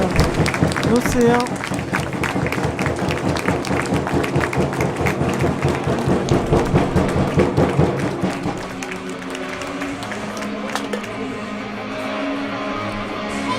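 Crowd at a Neuilly versus Brest ice hockey match applauds in a dense, sustained patter of claps that eases off near the end, with a commentator talking over it.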